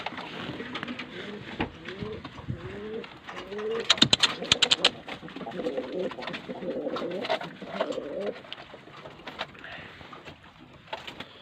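Pigeons coo repeatedly in soft, low rolling calls, with a burst of wing flapping partway through; nearby, somewhat cluttered ambience.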